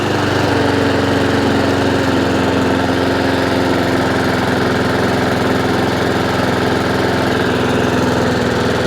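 A Honda IZY lawn mower with a leaking carburetor idles low and steady, its small engine droning continuously and close by with no talking.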